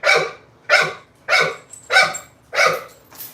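Dogs in a kennel barking close and loud, five sharp barks at an even, steady rhythm with a fainter sixth trailing off.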